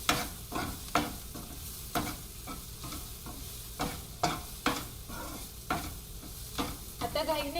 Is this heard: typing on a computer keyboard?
no